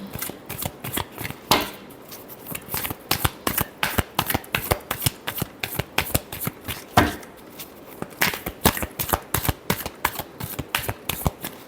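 Tarot cards are shuffled continuously by hand in a steady, brisk rhythm of crisp riffling slaps, close and clear with no talking.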